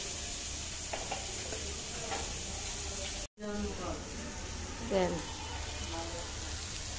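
Eggplant and small fish fry in a pan with a steady, close sizzle and occasional stirring, while a voice talks over the cooking.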